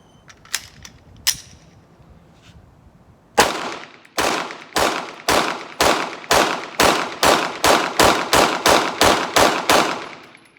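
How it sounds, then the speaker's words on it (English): A Glock pistol with a Shield Arms magazine is fired one-handed: a couple of early shots, then a fast, evenly spaced string of about a dozen loud, close reports. "Let's shoot it one-handed, see if that happens."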